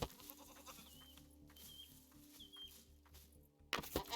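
A goat in the video game Rising World gives a few faint, brief bleats over a low droning game soundtrack, ending in a sudden louder burst.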